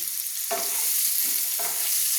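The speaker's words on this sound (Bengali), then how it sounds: "দেখুন এবার আমি চাপাটা তুলে নিচ্ছি দেখুন পটলটা আমার ভাজা হয়ে এসছে" Pointed gourd (potol) frying in a pan for an aloo-potol dish, a steady close sizzle with two brief clattering stirs or lid movements breaking through.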